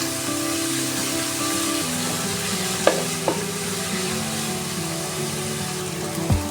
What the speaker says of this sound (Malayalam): ഇനി സവോള ഇതിലേക്ക് ചേർത്ത് കൊടുക്കാം ഒരു ടീസ്പൂൺ ഉപ്പ് കൂടി ചേർത്ത് കൊടുത്തിട്ടുണ്ട് നന്നായിട്ട് നമുക്ക് വഴറ്റിയെടുക്കാം